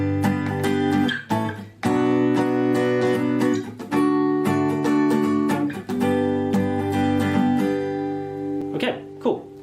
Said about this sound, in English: you can play this with bar chords fully